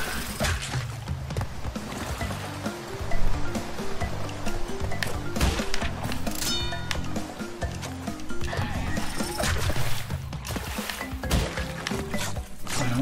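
A donkey brays loudly in a video game, with repeated strained, honking cries over a busy, noisy game soundscape.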